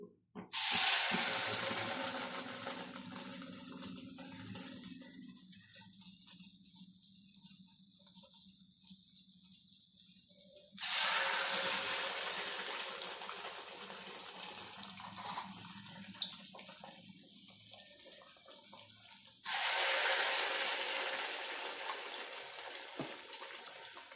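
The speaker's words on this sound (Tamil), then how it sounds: "இப்போ கரைச்சி வச்ச மாவை ஊற்றி எடுக்க போகிறோம்" Toor dal and coconut batter fries in hot oil, with three separate bursts of loud, close hissing sizzle. Each burst fades into quieter bubbling between them, and no one speaks.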